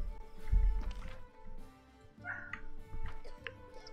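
Dogs bark and yip in short irregular bursts, with a whimpering tone between them, fairly close and moderately loud, set against a soft background hum.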